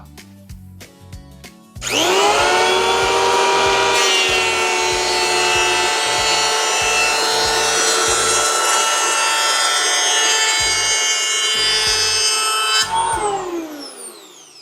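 A SENIX 3-inch electric hand planer whines steadily as it shaves along a wooden board for about eleven seconds, loud and close, with a rising pitch at startup and spin-down at the end.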